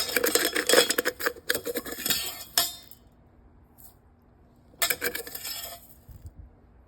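Brown sugar is stirred into a pot for chai, giving close, bright metallic clinks and scraping in two bursts with a quiet pause between.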